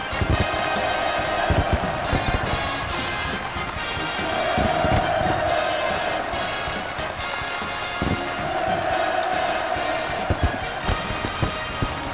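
A large crowd at a ground-breaking ceremony for a housing construction project roars in sustained cheering, swelling in waves over a continuous dense clamour with sharp rhythmic claps or bangs throughout.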